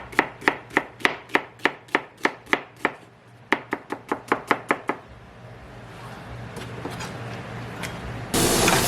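A knife slices through a medium-sized onion on a cutting board, a rapid run of about twenty crisp, evenly spaced chops, followed by softer rustling and a loud hissing swell at the end.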